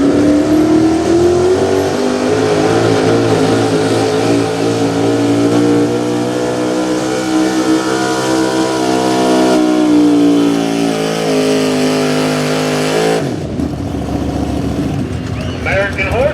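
A small-block class pulling truck at an outdoor truck-pulling event revs its engine hard and loud, with a rising, sustained roar. The roar cuts off sharply near the end, and crowd or announcer voices can be heard underneath.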